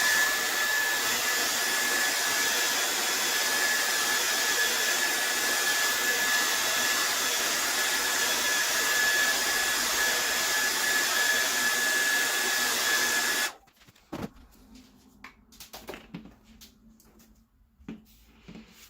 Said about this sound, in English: I'm just going to dry this for a minute.